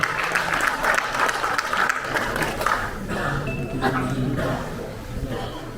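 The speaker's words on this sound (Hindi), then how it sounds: "बहुत जोरदार तालियों से आपका भी स्वागत और अभिनंदन।" Sustained crowd applause filling a hall at a Delhi event marking former Prime Minister Atal Bihari Vajpayee's 99th birth anniversary, dense clapping mixed with murmuring voices throughout.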